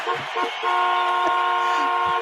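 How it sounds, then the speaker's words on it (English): A studio car horn sound effect blares in one loud, steady, sustained honk lasting about two seconds, close and dominant, with brief voices just before it starts. "we got the car horn just for you"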